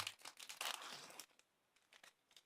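A Pokémon booster pack wrapper, Impact des Destins, is torn and crinkled open by hand, with a dense burst of loud plastic rustling and tearing in the first half, then a few softer crinkles.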